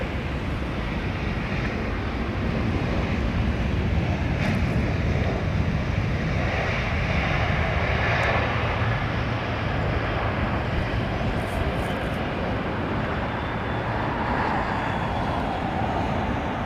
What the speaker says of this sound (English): Two Spitfires and a Lancaster,